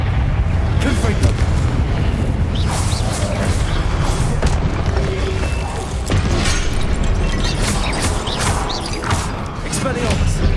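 Confringo explosive spell cast in Hogwarts Legacy, producing repeated booming blasts and crashes amid busy combat noise and music, with spoken voices over the action.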